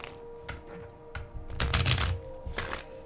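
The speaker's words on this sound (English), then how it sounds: "Just making sure that the cards are shuffled up." Tarot cards shuffled by hand during a reading, with soft riffling bursts and a louder flurry in the middle, close and alone.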